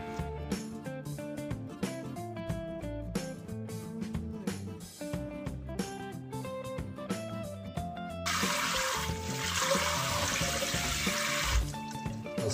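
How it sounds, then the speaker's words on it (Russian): Salted mullet (pilengas) fillet is rinsed under running tap water, a steady rushing stream lasting several seconds near the end, over background music that plays throughout. "Сейчас я промою его и оставлю в холодной воде"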